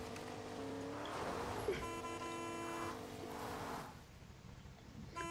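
Car horn honking in Fortnite, two sustained tonal blasts with a steady harmonic buzz over a running vehicle engine, fading near the end, with no clear voices.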